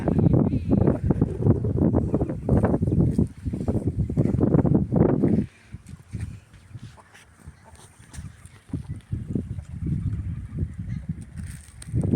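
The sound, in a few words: strong wind blowing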